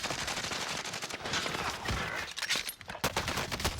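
Rapid bursts of gunfire crackle in a Warzone match, including a VLK Rogue shotgun, with dense overlapping shots and sharp reports across the whole stretch at moderate level.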